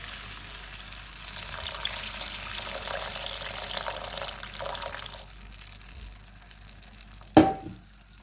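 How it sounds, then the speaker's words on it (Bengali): Shrimp napi broth, made with dried shrimp, being poured into a pea curry on the stove, a steady liquid splash and sizzle running several seconds before a sharp clink near the end. "কতক্ষণ বেশিগুলো সিদ্ধ করার পরে দিয়ে দিলাম নাপ্পির ঝোল।"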